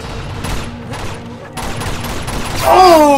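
Gunfire in Uncharted 2 rings out as loud repeated shots in quick bursts, close and punchy, with a short gap and then more shots, and a player's excited voice near the end.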